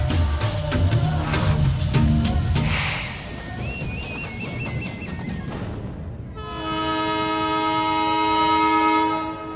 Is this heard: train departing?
yes